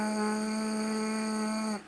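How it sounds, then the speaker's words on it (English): A trumpet mouthpiece buzzed on its own, producing one steady, sustained nasal tone that holds for almost two seconds before cutting off, fairly quiet and close. "this is a mouthpiece that we use on trumpets, and this is what we blow"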